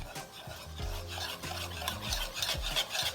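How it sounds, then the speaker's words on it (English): Peanut salad dressing being vigorously beaten in a bowl, giving a continuous rapid scraping and rasping with an uneven rhythm, close and steady without talk. "Beat it like vigorously for about 1 minute."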